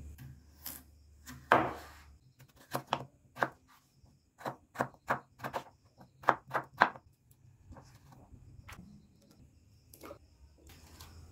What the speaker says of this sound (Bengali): এবার মিডিয়াম সাইজের টুকরো করে আলুগুলো কেটে নেব